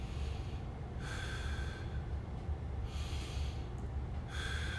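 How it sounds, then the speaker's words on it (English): Two or three slow, deep inhalations are drawn through the nose during a hip and low-back stretching sequence, close and soft, each swelling for about a second amid quiet background hiss. "Deep breath in."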